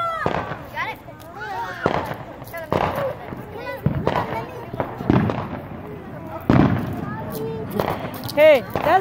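Fourth of July fireworks burst repeatedly at a distance in irregular booms and pops, while people talk and exclaim nearby over the explosions.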